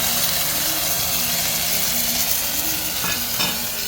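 Moong dal frying in a hot tempering with green chilli and fresh peas, with a steady close sizzle and scraping stir strokes throughout and a couple of sharper stir clicks near the end.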